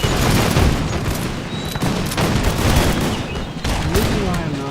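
Musket volleys in the video game Total War Empire, set in the American Revolution, with dense crackling rounds of fire and booms rolling continuously and loud throughout.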